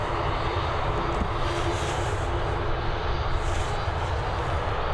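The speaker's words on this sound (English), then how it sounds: "Next up we've got an ATR regional on its way in." An ATR regional turboprop airliner comes in to land at Dublin Airport, its engines giving a steady, loud, droning roar throughout with no talk over it.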